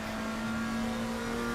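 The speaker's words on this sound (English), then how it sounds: "There, look at that Ferrari take off there" Ferrari GT3 race car accelerating in Le Mans Ultimate at Paul Ricard, a steady high engine whine that holds nearly constant and loud for a moment with no talk.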